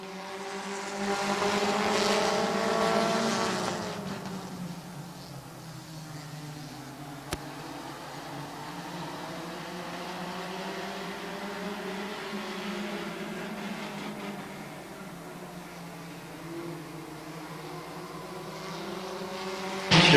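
Race cars run side by side through the field at Midvale Speedway, a distant buzzing engine drone that swells, fades and rises again in long waves as the pack circles the track.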